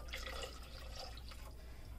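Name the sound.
water poured into slow cooker for soup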